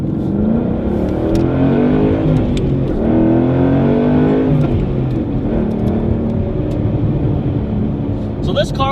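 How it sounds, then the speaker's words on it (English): A Ford Mustang Boss 302 engine accelerates from inside the cabin, a loud rising V8 roar through the gears with road and tire noise underneath, while a voice talks over it. "but you do hear the engine noise a lot better."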